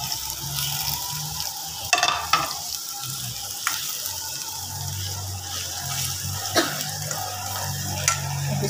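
Fried goat tripe cooks in masala in a kadai, sizzling steadily with occasional clicks and scrapes of stirring, close and fairly loud with no speech.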